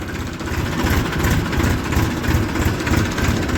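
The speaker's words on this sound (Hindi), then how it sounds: "देखें गुरुजी ट्रैक्टर ट्रॉली लेके जा रहे हैं।" Massey tractor hauling a loaded trolley, its heavy diesel engine throbbing in a steady, close low-frequency chug with no speech over it.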